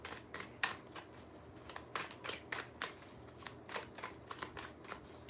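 Tarot cards are shuffled in a quick series of crisp riffling bursts, close and fairly loud, repeating in an uneven rhythm with no talking.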